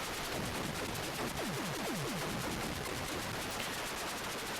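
Loud, continuous rush of harsh noise from a ground installation blowing up in the Atari 8-bit game Warhawk, with a quick series of falling zaps in the middle before the crackling static carries on unchanged, no talking.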